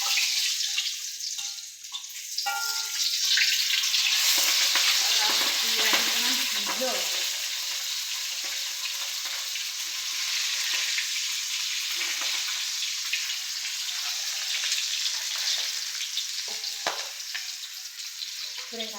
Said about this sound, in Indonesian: Goreng kacang ya.